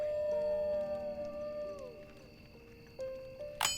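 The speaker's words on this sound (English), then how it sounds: "Do you guys hear the howling wolves in the background?" Several wolves in the video game Stonehearth howl together, long rising and falling tones overlapping at a distance, with a faint clink near the end.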